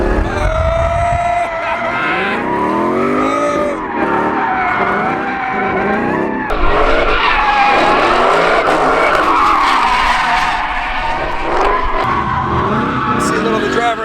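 A Roush RS3 Stage 3 supercharged Mustang skids with long, loud wavering tire squeals over a roaring engine, close up and continuous, with people talking and exclaiming throughout.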